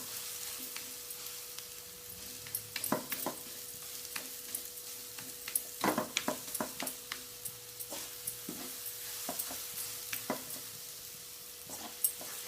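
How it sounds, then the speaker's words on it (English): Suji being stirred with melted sugar in a pan for halwa, a soft steady sizzle with scattered scraping clicks and taps of the spoon, fairly quiet and with no talk. "Mix all of this very well and stir it for about 5 minutes."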